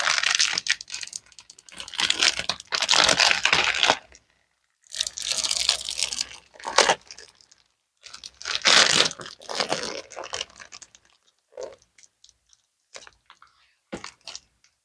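Vinyl mountain-and-tree decal being slowly peeled off a Jeep TJ window, giving close crinkling, tearing crackles in several long bursts separated by pauses, ending in a few small ticks.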